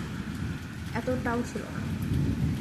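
Heavy rain with thunder pours down steadily during the monsoon, with a deep low rumble underneath, and a few short tonal calls briefly rise above the downpour.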